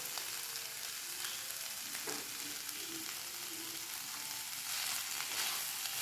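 Kerala-style chicken chilli with curry leaves and coriander frying in a pan, a steady dense sizzle that continues throughout, with brief scraping stirs partway through, close and loud with no talking.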